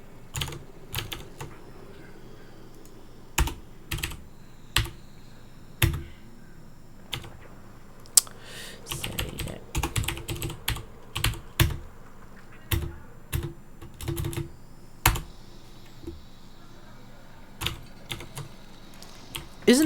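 Rapid, crisp keystrokes on a computer keyboard during a PC gaming session, arriving in irregular bursts and single taps with short pauses between, close and fairly loud, no one speaking.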